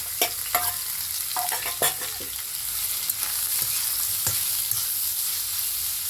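Broiler chicken pieces fry lightly in a pan with a steady close sizzle, broken by several sharp scraping clicks of a spatula stirring through the meat; no one speaks.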